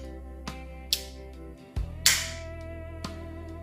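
A few sharp mechanical clicks and snaps from the break action of a Bond Arms Stinger RS derringer pistol, spaced irregularly against a quiet background, close and crisp.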